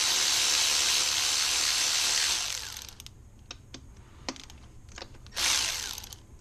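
A hand ratchet works loose the intercooler brackets on a 2002–2006 MINI Cooper R50/R53, heard as a few sparse, close ratcheting clicks and knocks after a stretch of loud hissing noise.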